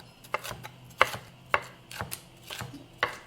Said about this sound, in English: And then I'm going to turn them into matchstick pieces.